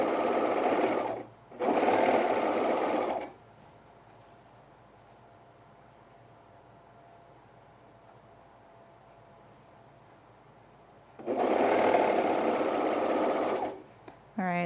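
A sewing machine trims fleece for a quarter-zip pullover in two loud whirring runs at the start, then a long quiet pause, then two more runs near the end.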